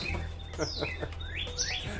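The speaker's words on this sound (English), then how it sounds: "There's a purple martin." A purple martin chirps in a quick burst of high, bright tweets and short trills over a steady low hum.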